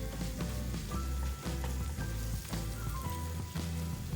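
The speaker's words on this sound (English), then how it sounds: "Add the spices to the onions and saute, letting the flavors meld beautifully" Spices and onions sautéing in a pan for a potato samosa filling, giving a steady, close sizzle that runs through the whole stretch with faint stirring clicks and no talk.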